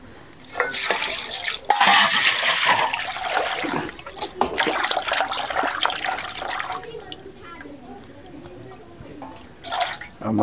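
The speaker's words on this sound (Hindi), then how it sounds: "मछली को बढ़िया से धो लेते हैं।" Water running and splashing while fish are washed in a home kitchen, with uneven gushes, drips and clatter that come in bursts and then ease into a softer trickle.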